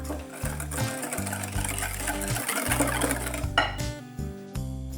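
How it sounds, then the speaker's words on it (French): A whisk beats a custard cream mixture of egg yolks and milk in a bowl, giving quick rhythmic scraping and clinking strokes that are close and fairly busy, with no voices. "Je fouette la préparation."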